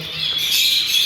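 Harsh, bright squawks and chatter from birds released into an aviary fill the space continuously, loud and close, with no voices.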